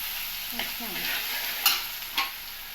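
Cumin and mustard seeds crackle and sizzle in hot oil, with a few sharp pops and stirring clicks over a steady hiss.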